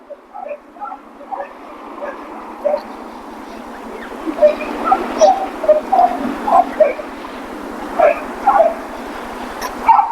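Several rambunctious dogs yip and bark on a walk through San Diego's Balboa Park, with sharp, repeated high yelps that grow busier over the stretch, set against a steady outdoor hum.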